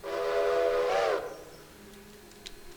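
Steam locomotive whistle in the Railroader train game, one loud harmonic blast lasting about a second with a breathy rise at its end, then fading into a quiet background with a few faint clicks.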